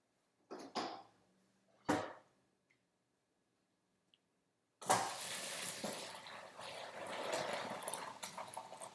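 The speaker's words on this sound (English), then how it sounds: "So I'm going to drain the pasta." Cooked pasta being drained as water pours out of the pot, a steady rushing stream after a few brief clinks and knocks beforehand.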